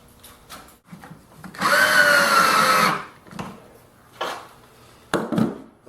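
A power drill whines for about a second and a half while drilling pilot holes to attach a caster on a workbench, close and loud, framed by scattered clicks and handling knocks.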